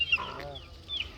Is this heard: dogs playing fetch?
no